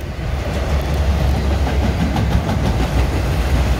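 A CSX freight train passes on the Louisville line near Nashville, Tennessee, a loud, close, continuous rumble of rolling wagons with a rhythmic clatter of wheels over the rails.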